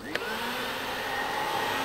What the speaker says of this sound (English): This is Roma Hoob, about to vacuum for the second time today.